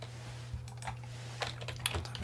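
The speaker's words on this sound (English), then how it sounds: "why would you record the keyboard when typing a password?" Soft, quick keystrokes on a computer keyboard patter irregularly at close range over a low electrical hum.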